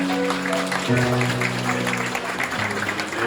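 Wedding guests in a hall clap to bless the bride and groom after their vows, a dense, sustained round of applause over a held background tone.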